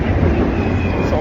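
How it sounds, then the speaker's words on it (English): A blizzard winter storm in Winnipeg, Manitoba roars steadily and loudly, with deep rumbling wind gusts buffeting close to the microphone throughout. "It's a blizzard winter storm here in Winnipeg City, Manitoba."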